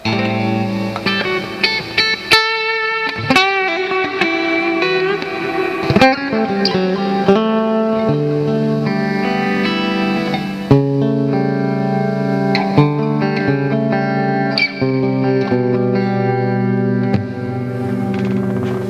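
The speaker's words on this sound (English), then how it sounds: "that's quite the reverb on that one." A Squier Classic Vibe Telecaster electric guitar rings out through an amplifier, chords and single notes washed in heavy reverb with long echoing tails, loud and alone.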